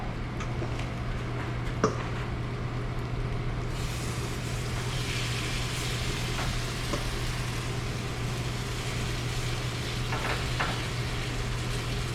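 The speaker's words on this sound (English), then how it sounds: "I'm going to adjust my heat down just a little bit once I get them in and get them starting to fry." Pa jeon, Korean pancakes, frying in a pan with a steady low sizzle and a few faint ticks and clicks throughout, with no talking.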